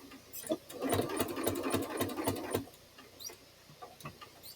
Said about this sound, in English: I'm going to take 1 or 2 stitches, backspace 1 or 2 stitches, and then I'm going to come down to the end